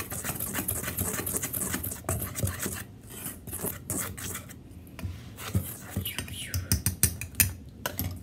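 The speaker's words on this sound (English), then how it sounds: "whisk that together well until it's all well combined" A whisk scrapes and taps through dry ingredients for sugar cookies in a mixing bowl, close, uneven rubbing strokes and light clinks in bursts with short pauses between.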